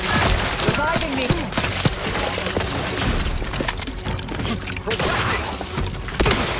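Gunfire from a firefight in The Outer Worlds 2, with dense bursts of shots and impacts and metallic clatter, loud and close, mixed with game voices.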